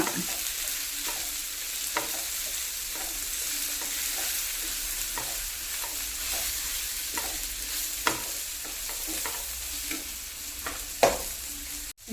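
Coriander and turmeric powder sizzle and fry in a pan, with steady close crackling and a few sharp scraping stirs of a spoon across the pan.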